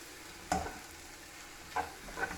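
A quiet, gentle sizzle of courgettes softening in a dry pan with a few soft scrapes of stirring, faint and unhurried, no talking.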